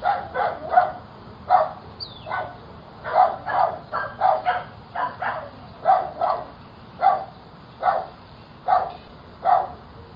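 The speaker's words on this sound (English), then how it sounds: "Sorry about the barking." A dog barks repeatedly in short, steady bursts, some doubled, continuing throughout at moderate distance with no one talking.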